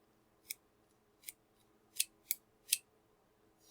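Five crisp, bright metallic snips from a pair of craft scissors opening, spaced unevenly with short pauses between them, close up and otherwise quiet.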